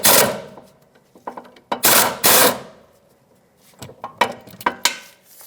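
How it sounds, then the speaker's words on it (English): Ratchet with a 17mm socket loosening the lower mounting nut of a front sway bar link on a 2013-2018 Hyundai Santa Fe, heard as several close bursts of rapid clicking separated by short pauses, with no talking. "Let's get a 17mm socket on the bottom of the sway bar link and remove that mounting nut."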